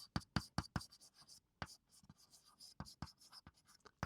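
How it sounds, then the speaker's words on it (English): Chalk or pen writing by hand during a probability lecture, a quick run of sharp scratchy strokes and taps, close and fairly clear, with short pauses between bursts. "let me write over here"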